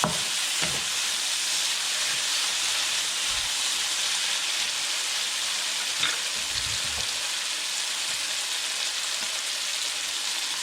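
Shrimp frying in a pan for ginisang sitaw at patola, a steady, close, even sizzle of hot oil with a few faint scrapes or stirs and no talking.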